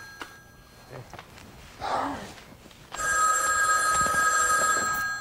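A telephone bell rings loudly and continuously from about midway, after a quieter stretch of room noise with a faint brief voice-like sound.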